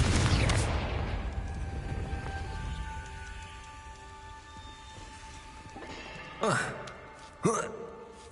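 The Confringo blasting curse exploding in Hogwarts Legacy: a loud, booming blast that rumbles and slowly fades, followed by two short, sharp swooshing bursts.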